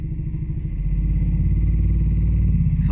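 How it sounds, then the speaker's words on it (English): A quad ATV passes close by on sand and dirt, its engine putting out a loud, steady, throbbing mid-pitched drone that holds level throughout, with a brief rattle near the end. "Someone out on the quad."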